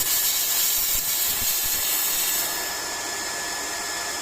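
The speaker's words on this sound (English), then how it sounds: "So now we're going to bleed the air out of it." Compressed air hisses steadily out of an air compressor's open bleed valve after the tank has filled, a loud continuous rush that eases slightly partway through.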